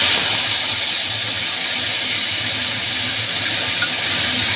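Ginger and green chili paste going into hot oil for a thin hilsa fish curry with raw banana and taro, giving a steady, loud broadband sizzle that holds evenly throughout with no talking.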